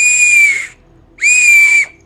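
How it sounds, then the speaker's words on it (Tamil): A whistle built into a baby rattle toy blows two loud, clear, steady shrill tones, each about half a second long, separated by a short pause. "இந்த ராட்டில் கூட வந்துட்டு கீழே விசிலும் வந்துடும்."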